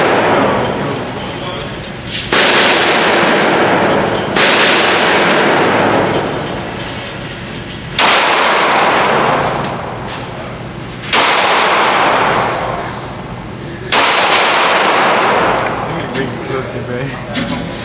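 Loud gunshots fired at a gun range ring out five times at irregular intervals of about two to three seconds, each sharp crack trailing into a long decaying echo, with people talking between the shots.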